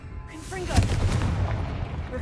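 Confringo fire spell explosion in Hogwarts Legacy: a single booming blast that swells and rumbles for about two seconds, preceded by a brief spoken incantation.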